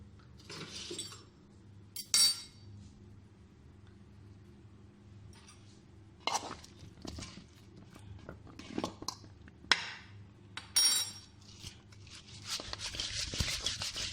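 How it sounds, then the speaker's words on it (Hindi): Spices are mixed into fish pieces in a bowl, giving scattered clinks, rubs and wet scraping, loudest in short bursts near the start and end, with no talking. "इस तरह हिला जुला के मसाले को मिक्स कर लेते हैं।"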